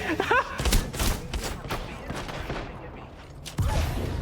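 Gunfire in the Apex Legends video game, rapid bursts of shots and thuds at close to mid range, loud and dense at first then thinning, with a voice talking over part of it.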